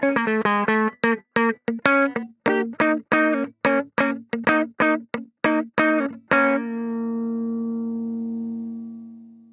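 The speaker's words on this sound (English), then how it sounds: "So we've got our compressor here, got dialed in a little bit spanky." Electric guitar played through a compressor in ToneLib Metal amp-simulation software: a run of clean, evenly punchy plucked notes and chords, loud and upfront, ending on a long sustained chord that slowly fades.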